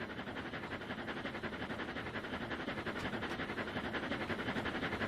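A steam locomotive in the Trainz 2019 video game chuffs along with a fast, even rhythmic pulse under steady rail rumble, heard continuously and fairly close with no talk.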